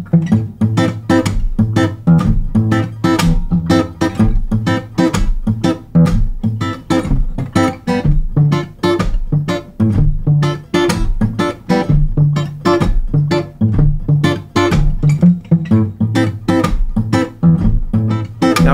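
Fingerstyle reggae played on acoustic guitar, with quick rhythmic strums and percussive slaps on the body, a steady, close, busy groove with no talking.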